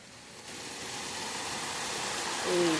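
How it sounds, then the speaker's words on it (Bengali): Rain begins falling as a broad, even hiss that thickens after the first half second and swells a little near the end, where a brief tonal hum also appears. "এই দেখো বৃষ্টি পড়া শুরু হয়ে গিয়েছে।"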